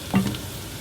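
Onions softening and sizzling in a frying pan while cooking Greek shrimps a la Spetsiota, heard as a short, close burst of stirring and frying with no talk.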